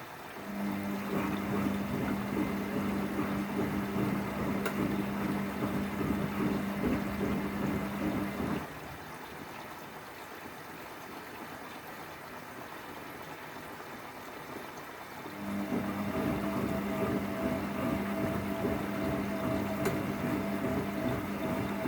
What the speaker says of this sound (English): The motor sounds a little bit raspy, but then given it's nearly 30 years old,